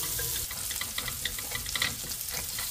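Garlic sizzles and crackles in hot oil in a pan, a steady close frying hiss with small bursts as it is stirred.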